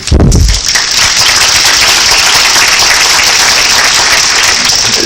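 Loud, dense audience applause at a panel on reunited Scientology families, a steady roar of many hands clapping close by after a brief low thump at the start, sustained without letup.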